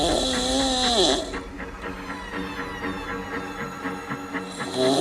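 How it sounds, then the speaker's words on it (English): Loud, rasping snoring from a man asleep in a house, one long harsh breath trailing off, then a quieter rattling stretch before the next snore swells up at the end. "I've never heard snoring like that"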